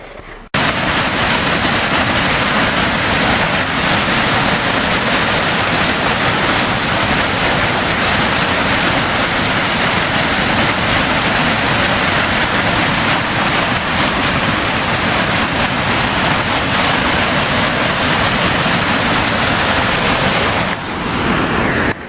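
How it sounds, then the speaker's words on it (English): A powerful waterfall near Big Sky, Montana, roars continuously at close range, a dense, unbroken rush of crashing water at constant high volume. "Affinity for waterfalls led me to this beautiful one here near Big Sky"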